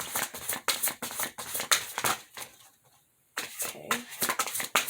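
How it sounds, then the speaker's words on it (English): Cards riffle and flutter in quick bursts close by, pausing briefly to near silence before another round of shuffling. "I've shuffled these cards like a million times, so I'm not going to spend a whole lot of time shuffling."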